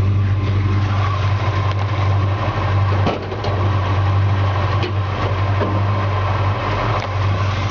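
A 1963½ Ford Galaxie 500 with a 352 four-barrel V8 idles with a deep, steady low rumble, close and loud, holding an even throb with one brief dip partway through.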